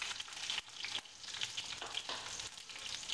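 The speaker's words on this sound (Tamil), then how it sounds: "இப்போ வெங்காயம் போட்டுக்கலாம்." Onions fry in hot oil in a pan after a mustard-seed and cumin tempering, giving a continuous close sizzle with faint crackling and small dips and surges. No one speaks.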